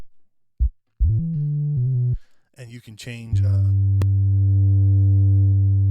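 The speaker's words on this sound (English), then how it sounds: "this is the bass we're using" A synth bass sounds in a music studio session, first as short plucked notes, then as a long sustained low tone, with someone talking over it partway through.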